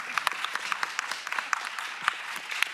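An audience at a university conference claps for under three seconds, the brisk dense applause moderately loud and steady.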